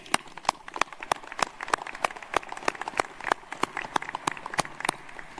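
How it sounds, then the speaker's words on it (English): Sustained applause at an Air Force Academy graduation ceremony, a crowd clapping steadily with sharp irregular claps standing out, fairly close and without talk. "another round of applause, please"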